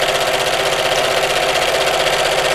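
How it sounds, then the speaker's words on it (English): Sewing machine stitching fabric for a cushion, a loud, steady mechanical whir with fast rhythmic needle chatter running throughout, close up and with no talking. "So start to sew"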